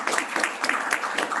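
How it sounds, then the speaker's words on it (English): Audience applause at an event on Namibia's independence, a steady patter of many hands clapping together, moderately loud and continuous, with no voice over it. "Da müssten wir eigentlich auch applaudieren"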